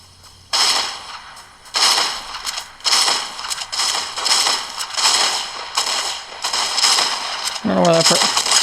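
Gunfire in a shooter video game played on a Surface Duo, a series of loud sharp repeated bursts in uneven clusters, close and dominant, with a brief voice near the end.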